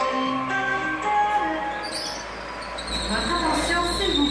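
Busy platform ambience at Lyon Part-Dieu station, with train wheels squealing and rolling rail noise under a murmur of voices and a public-address announcement, steady and fairly close throughout.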